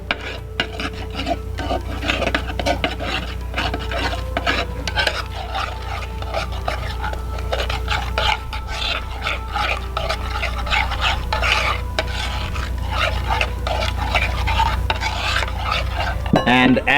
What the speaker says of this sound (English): with a nice spoon you blend it